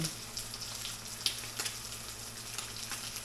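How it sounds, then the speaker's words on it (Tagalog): Food frying in a pan at home, with a steady low sizzle throughout and a few brief sharper crackles or pops standing out over the continuous hiss. "habang nagpiprito po ako"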